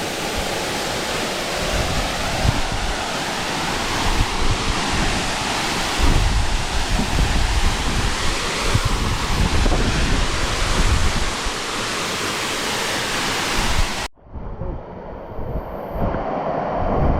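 Dark View Falls on St Vincent gives a loud, steady roar of falling water that rushes on without a break, then drops abruptly to a softer wash near the end.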